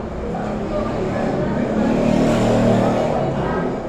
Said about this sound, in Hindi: फिर से गाड़ी निकल गई।